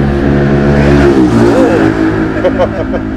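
Motorcycles and cars rev and accelerate past loudly on a busy road at night, engine pitch rising and falling close by, while people talk faintly underneath.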